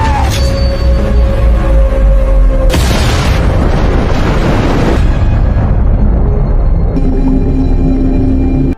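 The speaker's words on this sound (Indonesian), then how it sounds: "Ledakan besar pun terjadi." A grenade explosion erupts into loud, sustained booming rumbles, deep roaring blasts rolling and shifting for several seconds before cutting off abruptly.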